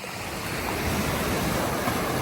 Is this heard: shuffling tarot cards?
no